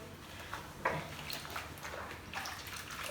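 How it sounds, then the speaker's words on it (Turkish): A cloth is washed by hand under running tap water, producing a soft, continuous splashing with small irregular sloshes and drips, quiet and close. "Şimdi ben sana bezi yıkayayım"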